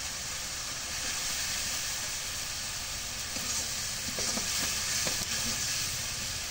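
Spices with turmeric powder and salt sautéing in a pan, a steady loud sizzle and hiss throughout with faint stirring scrapes near the end.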